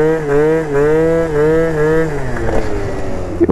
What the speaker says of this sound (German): Also er beschleunigt auf jeden Fall ganz gut. Der Sound, der ist halt mega geil.